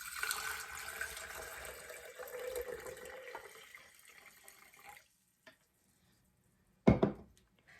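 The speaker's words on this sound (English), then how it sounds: "we're gonna add 3 times the amount of water as there are the amount of seeds." Water pours steadily into a jar of lentil seeds for several seconds, then tapers off, followed by a brief clink and a short sharp knock of the jar.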